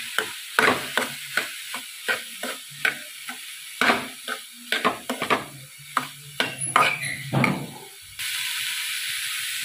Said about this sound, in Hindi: अब मैं इसके अंदर गोभी डाल दूंगी, अच्छे से मिक्स कर लेंगे